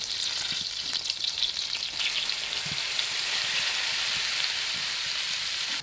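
Butter melts in a pan with a steady, bright sizzle and fine crackling, continuous and close, with a few soft clicks of movement and no talking.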